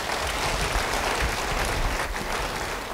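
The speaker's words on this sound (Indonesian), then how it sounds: "Beri tepuk tangan bagi dia" A church congregation claps during a sermon, a dense, even wash of applause that holds steady for a few seconds without voices over it.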